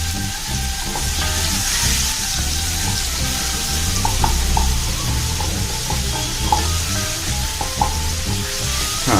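Ginger-garlic paste sizzles steadily in hot oil for a mushroom biryani, a continuous close crackle and hiss with occasional light clinks of a stirring spoon against the pan.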